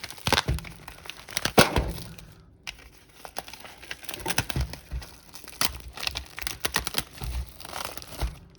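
Crinkly packaging is torn and crumpled open around a pizza, with sharp cracks, rustles and thuds in bursts over several seconds, close and fairly loud, no talking.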